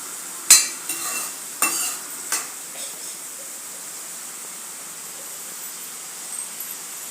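Onions, tomatoes and green chillies are stirred in a pan for potato tomato curry, with a few sharp scrapes near the start, then a faint, steady sizzle.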